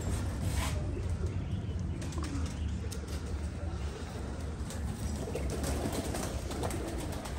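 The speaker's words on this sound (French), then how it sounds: "Ah bah les pigeons ils nous attendent." Pigeons coo in a loft in Marrakech, soft repeated throaty calls under a steady rumbling background hum, fairly faint and continuous with no talking.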